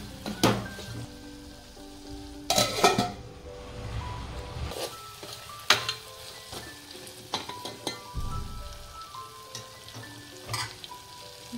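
Boiled mutton stock goes into a sizzling masala for a spicy village-style mutton curry, with a loud hissing burst as it hits the pan, then crackling, clanking and stirring scrapes that fade into a gentler bubbling simmer, with no speech.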